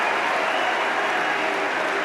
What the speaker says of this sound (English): And they're booing there.